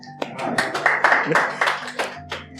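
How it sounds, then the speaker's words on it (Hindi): An audience at a Hindi love-poetry performance claps, a brief patter of applause rising and fading in a few seconds while the poet keeps speaking over it. "अगर एग्री करो तो तालियां बजा देना थोड़ी सी"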